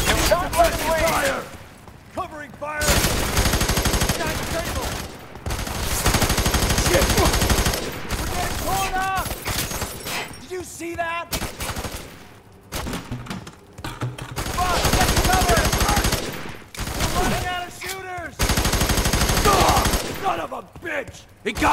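Bursts of automatic gunfire in the FEAR 3 video game, heard in the slums, coming in repeated loud volleys separated by short pauses, with shouted voices during the firefight.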